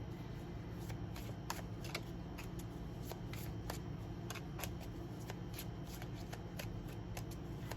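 Tarot cards shuffled by hand, a long stretch of soft, repeated riffling and clicking card flicks over a low steady background hum, quiet and close.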